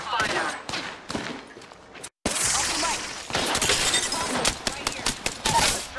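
Dense game gunfire from Apex Legends, with rapid volleys, sharp cracking shots and impacts crowding nearly the whole stretch, broken by one brief silent gap, while a voice talks over the action.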